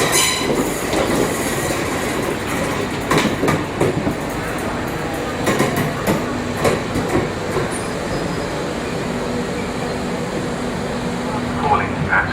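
A DC third-rail electric multiple unit train in Southern England rolls past with a continuous rumble and wheel clatter, rhythmic clicks over rail joints, and a faint squeal, with a voice speaking over it.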